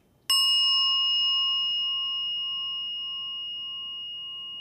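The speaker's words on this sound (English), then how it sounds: "we actually start our meetings with a bell and just a few moments of silence." A Buddhist mindfulness bell is struck once to open a meeting, giving a single clear, loud ring with bright overtones that rings on steadily and fades slowly over several seconds in a quiet room.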